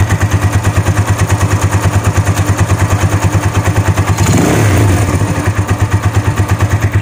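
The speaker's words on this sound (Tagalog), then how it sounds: "Ngayon kala mo parang may sisiw na tumutunog na dalawang metal na nag-uumpugan." Vperman 150 motorcycle engine idling with a valve tapping fault, a loud close steady chugging pulse overlaid with rapid metallic ticking, briefly rising in a short rev midway, no talk.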